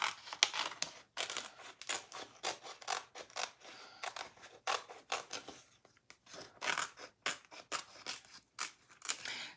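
Scissors snipping around a paper transfer for a colour-blending craft project, a quick run of close, crisp cuts in short bursts with brief pauses, with no talking.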